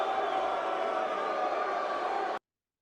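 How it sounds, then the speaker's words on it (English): Crowd at a WWE WrestleMania 40 Kick-Off press conference in Las Vegas reacting to The Rock, a dense steady roar of many voices with mixed boos, loud and continuous before cutting off abruptly. "And listen to the crowd."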